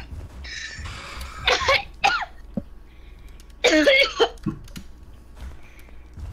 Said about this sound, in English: That cough just came from my lung.